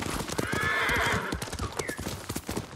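Kage, a horse in the video game Ghost of Tsushima, gallops with steady hoof clip-clop and lets out a loud, drawn-out whinny partway through, the hoofbeats continuing close and strong throughout.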